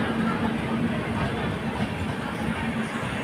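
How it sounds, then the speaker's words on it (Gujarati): A train pulls slowly out of Keshod bound for Rajkot, giving a steady, even rumble with a faint low hum from inside the coach. "તો અમારી પણ ટ્રેન હવે ધીરે ધીરે જઈ રહી છે"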